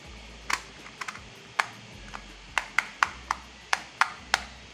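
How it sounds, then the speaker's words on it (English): Cogs on a Shengshou magnetic clock puzzle are turned by hand, giving about a dozen crisp, faint plastic clicks at an uneven, unhurried pace. No voice is heard over them. "there's a subtle tactile feedback when rotating the cogs"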